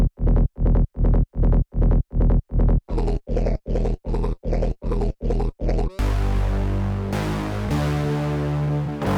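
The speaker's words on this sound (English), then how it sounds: "this distortion plugin acts like a synthesizer itself for me" A hard techno synth tone run through a distortion plugin, about a dozen loud, gritty, pulsing hits in steady rhythm that then give way to a sustained, harsh buzzing drone.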